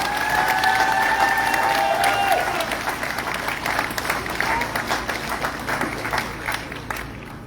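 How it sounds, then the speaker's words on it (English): A rally crowd breaks into loud, sustained applause with scattered cheers and whistles, the clapping holding strong before gradually thinning out. "I think they deserve a huge round of applause from all of us."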